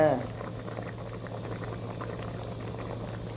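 Spicy soup at a rolling boil in a pot, a steady low bubbling and simmering hiss that runs throughout, with a voice talking over it.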